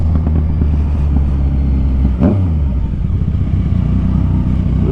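A Yamaha Tracer 900 motorcycle engine runs close and loud, rumbling steadily with a brief rev and crackle near the middle, and no talking.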